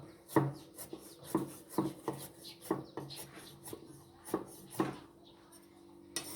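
Irregular knife strokes slicing ham thud against a wooden cutting board, about eight crisp cuts spread over several seconds, close and fairly loud.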